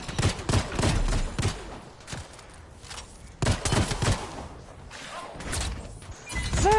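Masterwork LMG firing in a video game, with loud bursts of automatic fire coming in clustered volleys and brief quieter gaps between them, near and dominant with no talk over it.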